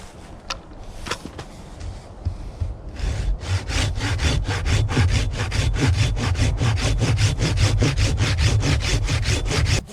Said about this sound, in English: the speed at which this saw cuts does kind of dissipate once it starts getting into thicker wood